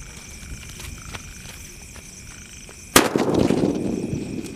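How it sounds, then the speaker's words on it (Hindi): Super Mega Bullet firework going off outdoors during Diwali-style firework testing: after quiet background, a single sharp loud crack bursts out, followed by a lingering crackling, hissing rumble. "चलो फ्रेंड्स, टेस्ट करते हैं हमारे सुपर मेगा बुलेट का और देखते हैं ये कैसी चलती है।"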